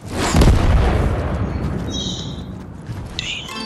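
A tank fires in a video game, setting off a heavy boom that rolls into a long, rumbling explosion, with faint higher game sounds trailing after.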